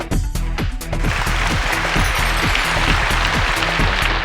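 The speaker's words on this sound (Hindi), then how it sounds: "प्लीज बहुत बहुत एक बार जोरदार ताली हो जाए" Audience clapping at an awards show, loud sustained applause from a crowd that builds quickly after a brief start and carries on evenly throughout.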